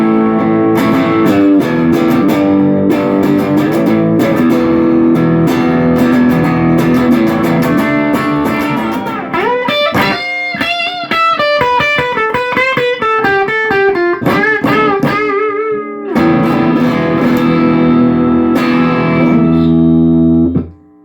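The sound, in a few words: Fender Mexican Telecaster through Marshall Shred Master distortion pedal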